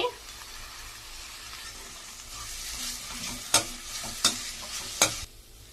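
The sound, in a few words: stirring chopped coriander into mango chitranna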